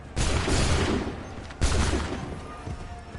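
A musket volley in Assassin's Creed 3, two loud, broad blasts about a second and a half apart, each trailing into a rumbling decay with faint background noise between.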